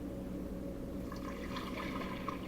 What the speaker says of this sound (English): I'm going to put that water in this bowl.